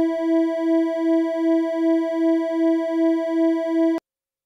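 Two steady sine tones, a fifth harmonic and an equal-tempered E, sound together for about four seconds with a slow, even beating pulse, then stop abruptly.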